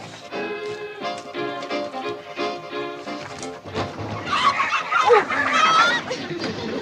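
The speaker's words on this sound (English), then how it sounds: "We'll have to ride with a carload of chickens." Chickens cluck and squawk in a busy, overlapping chorus, the racket growing louder and more frantic toward the end.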